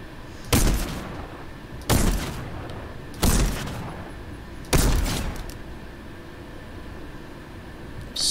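Gunshots in Fortnite, four loud, evenly spaced single shots about a second and a half apart, each with a sharp crack and decaying boom, and no talking.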